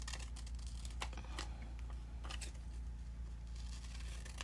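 Scissors snip through glossy magazine pages while clipping out pictures, sharp crisp cuts in quick irregular bursts close by over a steady low hum.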